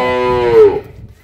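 A dairy cow of a high-milk-yield breed on a Bangladeshi dairy farm gives a single close, loud moo that swells and then fades over about a second, with no talk.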